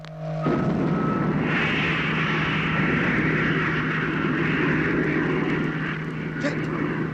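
A rocket launch roar in a radio drama about a lunar spaceflight, a sudden loud, sustained rumbling blast that starts abruptly and holds steady for several seconds with a shaking, vibrating texture.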